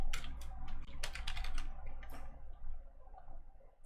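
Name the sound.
typing on a computer keyboard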